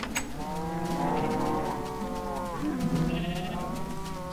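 Several Minecraft sheep bleat in overlapping, wavering cries that rise and fall over a few seconds, fairly close and clear against a quiet game background.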